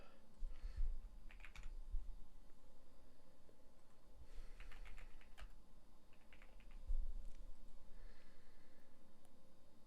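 Quiet, rapid clicking of a computer keyboard in irregular bursts, soft and close with a low background hum, no talk.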